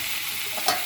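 Cucumber hits a hot pan of dried chillies and spices, giving a loud, dense sizzle that holds steady for under a second and swells briefly near the end.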